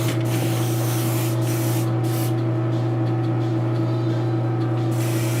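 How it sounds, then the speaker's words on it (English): A partly clogged airbrush spraying paint on custom statues, a loud continuous hiss of air and spray over a steady compressor hum, with a few sputtering breaks near the start. "Airbrush is a little clogged."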